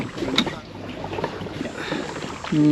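Oars splash and knock through water in an uneven rhythm, with wind noise and a brief tonal squeak near the end.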